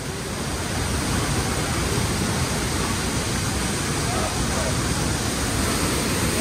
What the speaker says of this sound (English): the way the water flows over it, it's so therapeutic to see